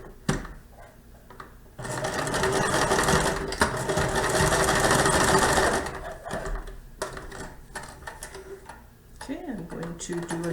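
A sewing machine stitches a row along a contoured fabric face mask, a close, even mechanical whir with quick needle ticks lasting about four seconds, framed by handling clicks and a voice talking before and after.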